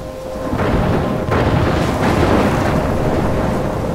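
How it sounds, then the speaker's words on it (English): A thunderstorm in the video game Life Is Strange 2 roars loud and close, with deep rolling thunder and a continuous wash of rain and wind building in waves. "I'm trapped in a storm?"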